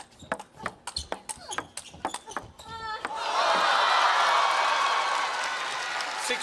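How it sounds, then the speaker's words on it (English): At a women's doubles badminton semifinal, a sharp run of shuttle hits and squeaking shoes gives way to a loud, sustained crowd roar and cheering that swells and holds. "Hearing the crowd's reaction is all you need to know about that point"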